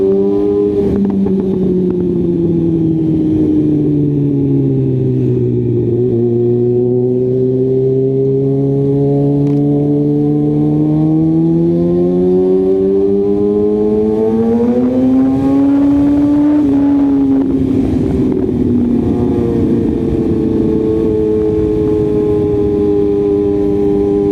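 A small car revs and drives around a loop, its engine note climbing and falling steadily through gear changes, loud and close throughout with no talking.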